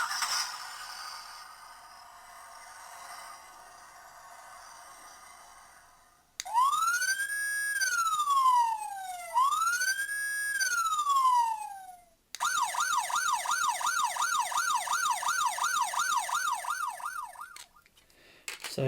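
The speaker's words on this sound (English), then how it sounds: "it just does police car sounds" A toy police car cycles through electronic siren sounds, first a soft hiss, then two loud rising-and-falling wails, then a rapid warbling yelp, with a scrape at the end.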